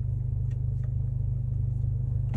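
A tuned 350 hp Volkswagen Jetta TSI idles at a drag strip with a deep, steady, pulsing rumble, close and constant with no revving, plus a couple of faint clicks on top.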